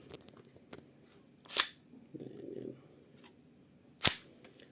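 A KJW CZ Shadow 2 airsoft pistol in orange fires two sharp, snappy shots a few seconds apart against quiet background clicks and faint handling noise.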